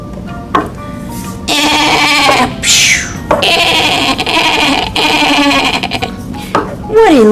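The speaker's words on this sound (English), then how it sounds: "Let's help the sheep into the truck." A sheep being loaded into a truck on a farm bleats in a few loud, wavering cries amid busy background sound.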